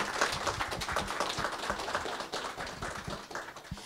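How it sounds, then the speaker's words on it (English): A small audience gives a round of applause after a women's leadership session. The separate claps are near but fairly quiet, a little sparse, and last a few seconds. "If we can give them one more round of applause."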